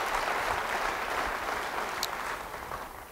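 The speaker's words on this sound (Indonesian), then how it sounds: "Beri tepuk tangan bagi dia." Church congregation applauding during a worship service, a dense, even wash of many hands clapping at moderate distance that eases off slightly toward the end.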